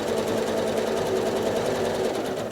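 A sewing machine runs fast for free-motion quilting on a basket block, a steady, close, buzzing hum of rapid stitches that continues without pause and with no talk.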